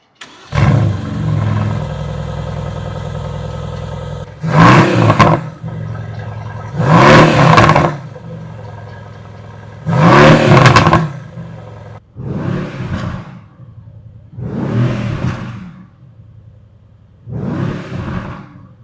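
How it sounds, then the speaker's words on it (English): Mercedes-AMG GT C V8 engine, 550 horsepower, revved repeatedly while stationary: about seven loud, close bursts of roaring throttle, each rising and falling back to a rumbling idle, with short gaps between. "V8 from the AMG GTC makes 550 horsepower and 500 pound-feet of torque."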